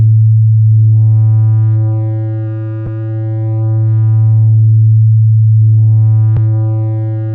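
A steady low synthesized sine-wave tone whose brightness slowly sweeps down and back up as a filter in Logic Pro 11's Chromaglow opens and closes, with two sharp clicks.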